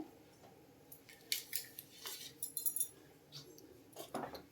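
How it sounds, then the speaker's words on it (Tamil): A metal lid set onto a pan for a bread pudding, heard as a series of light metallic clinks and clatters, close and fairly quiet, with small scrapes between them and no talking. "இப்போ இந்த மாதிரி ஒரு லிட்டு போட்டு நம்ம மூடி வச்சிடலாம்"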